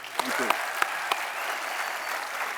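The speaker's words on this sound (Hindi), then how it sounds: "एक बार फिर से तालियां बनती हैं।" Studio audience applause on a Hindi comedy talk show, a brisk burst of clapping with a few sharp claps standing out, steady and moderately loud throughout.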